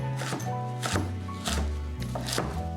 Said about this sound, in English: get our sharp knife, and then all we're going to do is just roughly slice it